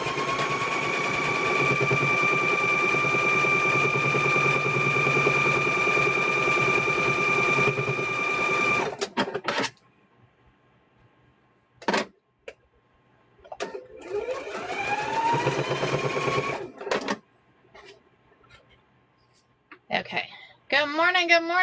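Sewing machine stitching quilt squares, a steady whirring run for roughly the first nine seconds, then stopping; afterward come short handling noises, brief bursts and a voice talking.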